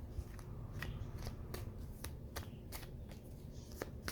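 Tarot cards are shuffled close up in a steady rhythm, a series of quick riffling snaps repeating at regular intervals over a low background rumble.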